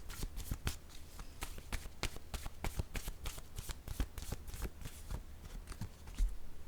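Tarot cards shuffled steadily during a card reading, a dense run of crisp riffling clicks and soft slaps close by, fairly quiet, with no voice over it.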